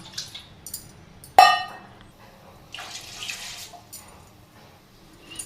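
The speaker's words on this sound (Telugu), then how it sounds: "ఈ గిన్నెను స్టవ్ పైన పెట్టేసుకొని ఆవిరి కోసం వాటర్ పోసేసుకుందాం." Water is poured into a metal pot on a stove to make steam. A sharp metallic clink rings out first, then a short, soft splash of pouring follows in a quiet room.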